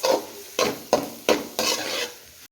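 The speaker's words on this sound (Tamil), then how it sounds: "இப்போ நல்லா கிண்டிட்டு காய்கறி கூட மிக்ஸ் பண்ணிக்கலாம்" Fried rice with vegetables, corn and egg being stirred in a pan, with repeated scraping strokes of a spatula and a light sizzle, about five close, distinct strokes in quick rhythm.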